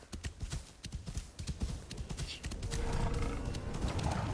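A horse mount in a feudal Japan action game gallops with rapid clip-clop hoofbeats and a brief whinny, fairly loud and close, blending into a rushing wind-like wash midway.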